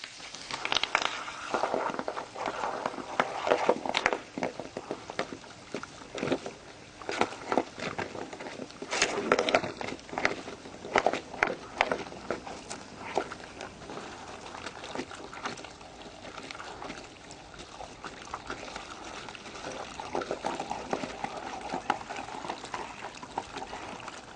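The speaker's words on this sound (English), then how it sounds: "let's start using that water wand." A water wand jets a steady, rushing spray toward a core hole for a water stub installation, a continuous hissing and splashing wash with uneven surges, close and constant throughout.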